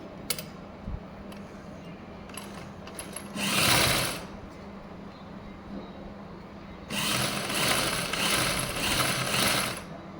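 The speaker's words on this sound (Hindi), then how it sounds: "यहाँ इसको ऐसे फोल्ड करते हुए एक पंजे की सिलाई लगा लेंगे" A sewing machine runs a single-foot seam along folded fabric for a blouse sleeve: a short burst of fast stitching, a pause, then a longer steady run. Nearby and fairly loud, with no talking.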